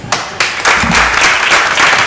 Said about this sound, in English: Let's applaud your parents.